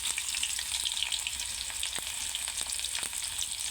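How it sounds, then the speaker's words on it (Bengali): Chopped onion frying in hot oil gives a steady, close hiss and crackle, broken by a handful of sharp taps from a stirring utensil, with nobody talking. "অল্প করে পেঁয়াজ কুচি দিয়ে দিলাম। কিছুটা কাঁচামরিচ দিয়ে দেবো এইভাবে, কিছুটা নাড়াচাড়া করে পেঁয়াজটা ভেজে আসা পর্যন্ত অপেক্ষা করবো।"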